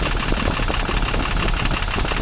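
A car engine with a fuel injector opened runs at a steady idle, with a loud, continuous, slightly knocking mechanical drone and no voices.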